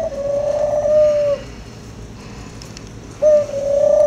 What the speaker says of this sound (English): You odd little birds.